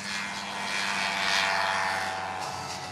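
A Piper light aircraft drones past at reduced engine power, a steady propeller hum that swells slightly mid-pass and then eases, moderately near with no other sounds.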